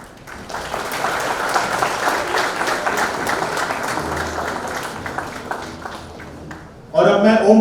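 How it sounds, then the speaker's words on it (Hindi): An audience applauds at the felicitation ceremony for a Femina Miss India 2020 runner-up, with sustained clapping that fades toward the end before a voice comes in over a microphone. "एक बार जोरदार तालियां"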